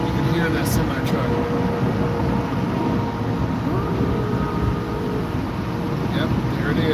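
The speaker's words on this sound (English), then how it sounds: "You can hear that semi-truck." A semi-truck rumbling past on a busy street, heard from inside a car as a steady, loud low roar of traffic that swells and fades over several seconds.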